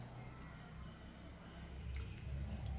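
Half a cup of water poured into a cup of semolina (rava) for crispy rava vada, a faint, soft trickle and drip close by in a quiet kitchen.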